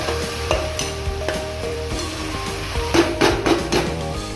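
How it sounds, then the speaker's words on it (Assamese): Tomatoes and mustard seeds fry in a pan while a spoon stirs, giving clear scraping knocks and clinks over a low sizzle, with louder taps clustered near the end. "এয়া বিলাহীখিনি অলপ ফ্ৰাই হোৱাৰ পিছত মই সৰিয়হখিনি ইয়াতে দি দিলোঁ। এতিয়া অকণমান লৰাই দিব লাগিব।"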